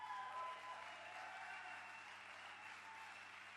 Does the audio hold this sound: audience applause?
yes